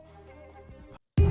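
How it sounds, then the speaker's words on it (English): Early-game mission-complete music from Grand Theft Auto IV: a short tonal musical sting with sustained notes that stops, then after a brief silence a loud, dense burst of sound cuts in at the end. "At the start of the game, completing missions sounds like this."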